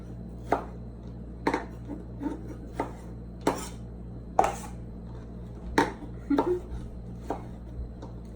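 A knife dices tomatoes for pico de gallo on a cutting board, roughly a dozen crisp, uneven chops spaced about a second apart, some landing in quick pairs, close and clear over a low steady hum.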